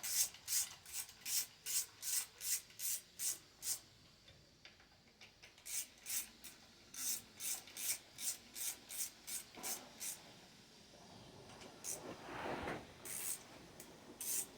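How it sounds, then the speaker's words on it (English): A tree branch scrapes against the top of a trailer in rhythmic bursts of rubbing, raspy strokes repeating about twice a second, pausing mid-clip and then resuming, fairly faint with no talking. "Don't mind the scraping in the background. That's just a tree hitting the top of the trailer."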